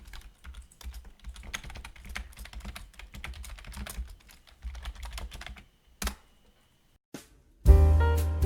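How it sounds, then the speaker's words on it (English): Someone types on a computer keyboard in quick bursts of clicky keystrokes, separated by short pauses. It ends with a few isolated taps and then a sudden louder noise. "I can type."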